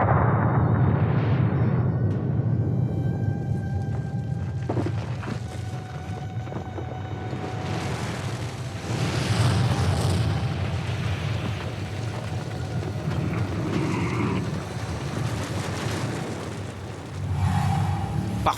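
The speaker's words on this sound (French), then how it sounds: "Le Stromboli est un volcan actif. En moyenne, une explosion toutes les 15 minutes." Explosion from Stromboli, an active volcano, a loud deep rumbling blast that swells and rolls on for many seconds, with crackling bursts and a broad roar, no voices.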